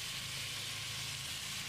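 Mixed vegetables (potato, beans, carrot, green peas, cauliflower, mushroom) sauté in a pan for Nilgiri-style vegetable kurma, giving a steady, close, even sizzle with a low hum beneath and no speech.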